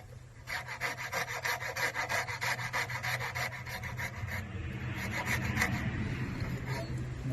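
A hand saw cuts through a small wood trim piece to form a coped miter joint, giving steady rhythmic rasping strokes that run close and continuous throughout, slightly rougher toward the end, with no talking.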